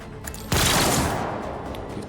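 A sudden, loud burst of automatic gunfire erupts in the tactical fantasy-war game Warhammer 40,000: Rogue Trader, starting abruptly after a quiet moment and then sustaining a dense, roaring rattle that slowly eases.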